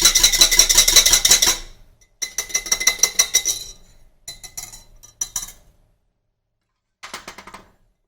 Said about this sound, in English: Just give it a quick whisk so that I break my egg